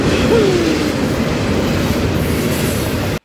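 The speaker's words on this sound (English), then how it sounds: "Alrighty, here comes the train." A long freight train pulled by mixed locomotives rolls past a railroad crossing, a loud steady rumble of rail cars with a brief wheel squeal early on.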